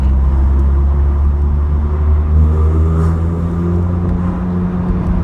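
A 1984 Vauxhall Cavalier Mk2 car engine runs steadily with a deep, continuous low rumble and faint whir, close by with no talking.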